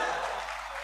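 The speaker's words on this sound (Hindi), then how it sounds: "नहीं नहीं, कमजोर तालियां हैं दोस्तों।" A mushaira audience gives a brief, thin wash of applause, soft and steady, fading slightly over under a second.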